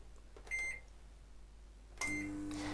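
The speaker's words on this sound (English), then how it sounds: "I'm going to pop this in the microwave, and I'm going to give it 10 seconds" Microwave oven warming a jug with a stirring stick inside, short electronic beeps from the keypad, then the oven starting with a low steady hum and a further tone over it.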